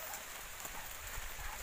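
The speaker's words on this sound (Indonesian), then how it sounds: "Hujan mulai turun, tapi nggak apa-apa." Steady rain falls during an outdoor hunting trip, producing a constant, even hiss with no break and no voices.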